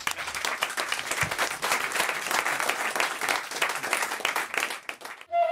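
A French radio show's studio audience applauds steadily, dense clapping filling the room for several seconds before it cuts off abruptly near the end.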